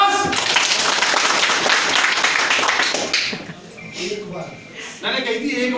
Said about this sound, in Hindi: जब मैं यस बोलूंगा तो ताली बजाएंगे एक बार